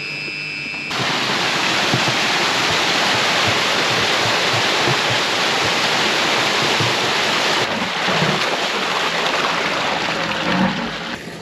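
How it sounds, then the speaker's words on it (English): Water gushing out under about 25 pounds of pressure as underground pipe is flushed, a loud steady broadband roar filling the whole stretch, with a slight change in tone near the end. "What we were doing was flushing out all the underground pipe."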